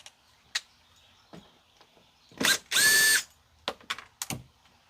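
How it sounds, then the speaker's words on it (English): A 7mm socket on a ratchet turns bolts along the back of an Astro van interior, with short close clicking bursts, one long loud whirring run in the middle and quieter scattered clicks around it. "I'm using a 7mm socket for this."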